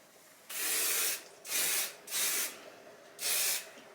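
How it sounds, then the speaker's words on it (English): Four close hissing bursts from an aerosol can of spray wax applied to hair, the first longest, with short pauses between sprays. "This is spray wax."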